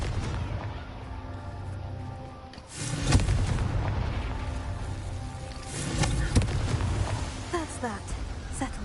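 Confringo fire spell exploding in Hogwarts Legacy, a deep boom around the middle with rumbling blasts and crackle following, all over a busy game soundscape.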